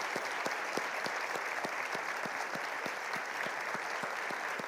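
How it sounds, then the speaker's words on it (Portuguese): Church congregation applauding the music team, a steady wash of many hands clapping with some rhythmic claps standing out, continuous and moderately close. "Queria que vocês aplaudissem esses irmãos."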